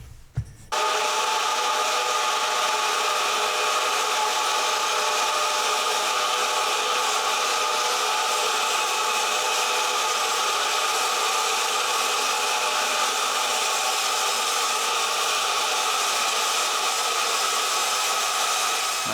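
A bandsaw trims a thin sliver off a book-matched maple guitar top, giving a steady, loud broadband whir that runs unbroken for nearly the whole stretch after a brief start, with no talking.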